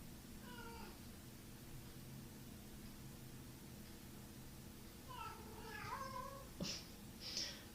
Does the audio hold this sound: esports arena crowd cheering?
no